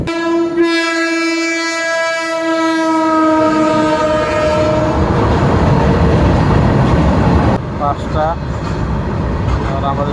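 Dhauli Express passenger train on the Balasore to Shalimar line, a loud sustained horn blast giving way to the rumbling roar and rattle of the carriages running on the rails, with brief squealing near the end.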